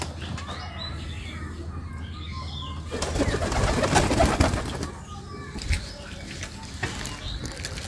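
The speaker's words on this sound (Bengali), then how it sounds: "ঘুঘুগুলা, অস্ট্রেলিয়ান ঘুঘু" Australian doves coo softly and repeatedly in a pigeon loft, with brief wing flaps and rustling close by and a person talking over part of it.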